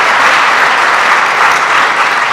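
An audience at a National Ag Day celebration gives loud, sustained applause, a dense wash of clapping that holds steady throughout.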